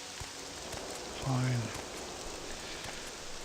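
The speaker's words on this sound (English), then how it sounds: "I don't see any rain, I just hear it, okay?" Steady rain falling in the video game Morrowind, a constant soft hiss of drops spread evenly, with a brief tonal in-game sound and someone speaking a single word over it.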